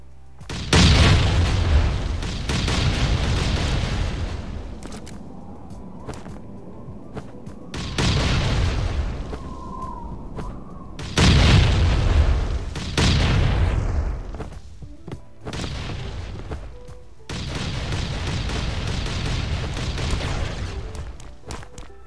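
Several heavy explosions boom in sequence as explosives blast through a wall in the video game Last Island of Survival, each a loud blast followed by rumbling debris, with quieter gaps between the detonations.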